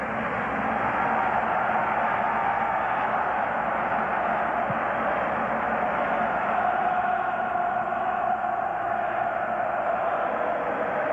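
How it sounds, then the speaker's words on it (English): Republic of Ireland football supporters at a 2002 World Cup stadium match against Cameroon roar in a steady, dense wash of crowd noise that carries on without a break. "all the noise you can hear now is coming from the Republic of Ireland supporters"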